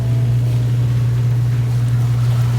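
A strained washing machine drones with a loud, steady low motor hum as it struggles with a load of laundry, constant and unbroken at close range.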